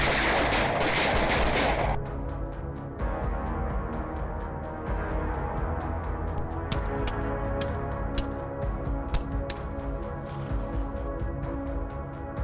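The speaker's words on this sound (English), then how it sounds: "Rapid gunfire erupts, muzzle flashes piercing the night, blending with the frightened cries of the boars" Rapid bursts of gunfire from hunters shooting at wild boars at night, with a dense crackle of repeated shots, loud and close, over a busy, noisy background.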